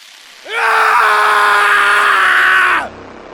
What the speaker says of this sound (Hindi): घर के अंदर से किसी की चिल्लाने की आवाज आती है।